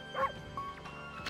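A dog's short bark and yip in the video game Okami HD, a couple of brief high calls over quiet background music, no talking.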